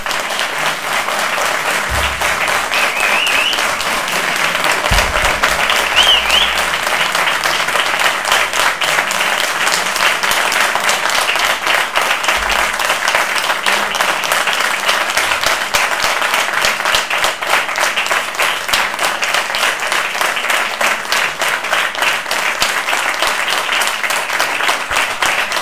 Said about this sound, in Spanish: Nosotros no tenemos observaciones con relación a los aplausos.